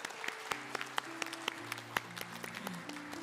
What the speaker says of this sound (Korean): 우리 서로에게 한번 축복의 박수 한번 나누도록 할까요?